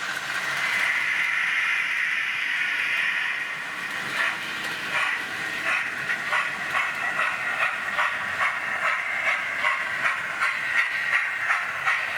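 Model steam trains run round the track: a steady steam hiss gives way to a rhythmic, repeating chuff that continues fairly close and even to the end.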